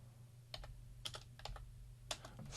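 Someone types on a computer keyboard in a quiet room, a few short clusters of crisp key clicks over a low steady hum.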